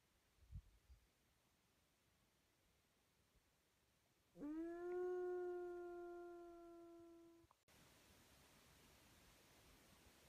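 A lone wolf gives one long, steady howl by Lake Lacina, faint and distant in a quiet, hissing outdoor setting, starting abruptly and tapering off after about three seconds, with no talking.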